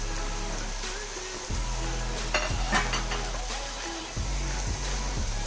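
Tomatoes and green chillies frying with minced meat for bhuna qeema, a loud continuous sizzle with several heavy stirring scrapes and knocks against the pan, close and steady.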